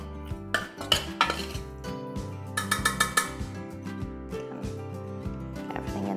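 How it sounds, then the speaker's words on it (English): A metal spoon mixes spices and harissa in a bowl for a Moroccan carrot dip, giving repeated clinks and scrapes against the bowl in uneven bursts over a steady low hum. "So I would just give it a little bit of a mix with your spoon."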